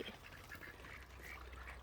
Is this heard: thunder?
no